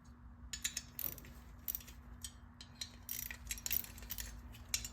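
Screws are backed out of the floorboard on a 2009 police special motorcycle, giving a faint, irregular series of small metallic clicks and ratcheting ticks over a low steady hum, close but quiet.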